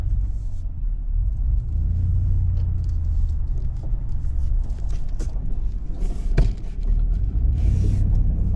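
A Ford Super Duty pickup with a non-diesel engine, towing heavy in 4-wheel drive with the rear locked, climbs gravel, its steady low engine rumble and drivetrain drone continuous and close, with occasional creaks and knocks and no talk.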